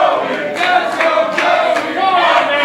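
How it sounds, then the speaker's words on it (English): Indoor independent wrestling crowd chanting for Joey Ryan during a PWG intergender match, a small group of voices in a steady rhythmic chant, moderately loud and echoing through the venue. "I think 5 people in the crowd chanting, "Let's go, Joey.""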